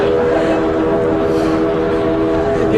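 A loud, continuous train sound effect played as a gag in a 1960s stand-up comedy routine, sustained rumbling with a steady horn-like whistle tone throughout.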